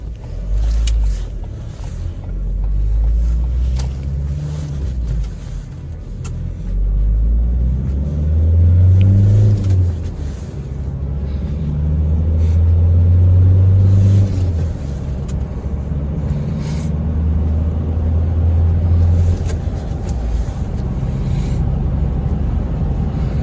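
A Ford Kuga Titanium 2.0 TDCi 4x4 diesel engine hums steadily at low pitch while driving, with rising and falling revs and road rumble throughout; the gearbox does not whine.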